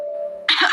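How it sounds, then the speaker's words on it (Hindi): A single short, forced cough from a man pretending to clear his attention, following a steady tone, heard up close in a dramatized Hindi audio story with no talk over it. "खांसने का नाटक किया"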